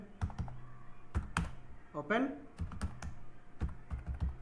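Keys clack sharply on a nearby computer keyboard while a login test case is typed, in quick irregular bursts with brief pauses and a faint voice between strokes.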